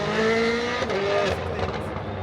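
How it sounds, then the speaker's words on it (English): Rally cars pass one after another on an evening super special stage at WRC Rally Portugal 2024, engines rising and falling in pitch as they go by, loud and close over a steady crowd murmur. "Last few cars are just going through"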